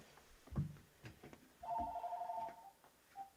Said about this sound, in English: and there's the phone call